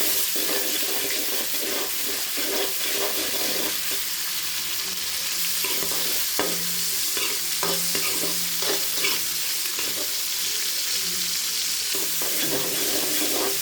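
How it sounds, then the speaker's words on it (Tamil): Tomatoes, onion and green chilli sautéed with salt in a pan for a tuna fish curry, a continuous loud sizzle with repeated stirring and scraping clatter throughout. "உப்பு போட்டுக்கலாம், தக்காளி போட்டுக்கலாம், நல்லா வதக்கலாம்."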